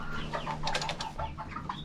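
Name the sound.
rooster crowing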